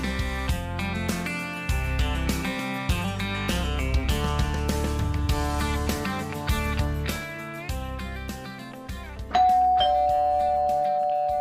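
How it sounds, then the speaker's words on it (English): A front-porch doorbell plays a loud, tuneful chime sequence of ringing tones. It ends on a long sustained note. "Who installed a doorbell on the front porch?"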